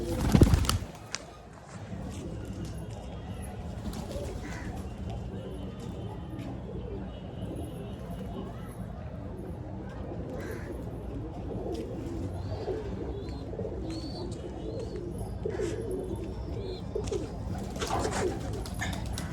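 Pigeons coo steadily in low, rolling calls close by, with a few faint chirps and a brief sharp noise at the start.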